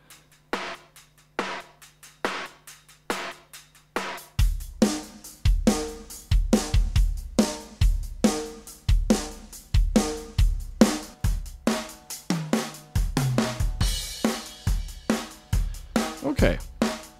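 Drum loop layered from three different kits playing the same pattern in a synth-based song: a steady electronic groove of punchy kicks, snares and hats, starting sparse with a low synth tone before the full beat enters loud and alone.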